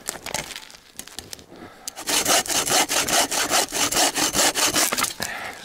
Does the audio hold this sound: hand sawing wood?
yes